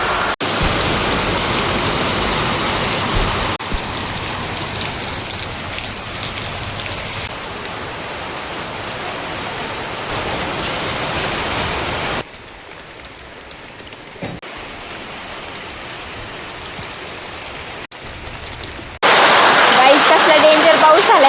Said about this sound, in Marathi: तर बघा पावसाला सुरुवात झाली आहे.